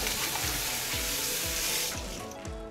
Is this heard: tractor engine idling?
no